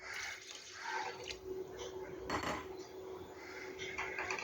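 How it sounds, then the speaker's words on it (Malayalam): Water pours into a pot of okra sambar, a steady splashing and trickling with light clinks of metal cookware, close and fairly quiet. "ഞാൻ ഇതിലേക്ക് 2 ബൗള് വെള്ളം ഒഴിച്ചു കൊടുക്കുകയാണ്"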